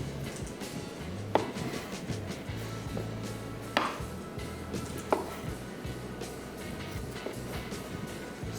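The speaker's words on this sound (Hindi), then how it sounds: "हमने लेमन के वेजेस और रिंग काट लिए" Knife chopping a lemon into wedges and rings in a kitchen, a few sparse, distinct cuts against a board spaced seconds apart over low background noise.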